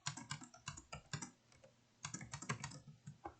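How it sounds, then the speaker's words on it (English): Fast, quiet typing on a computer keyboard comes in two quick runs of clicky keystrokes separated by a short pause, with no voice over it. "if we type that out"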